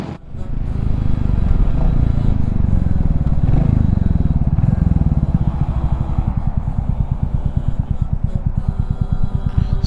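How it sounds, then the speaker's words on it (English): A 350cc motorcycle engine running while riding at night, loud and close with a steady low drone that swells as it accelerates, then settles into a rapid rhythmic thumping idle-like pulse. "this is only a 350cc, so I wonder how loud it can get."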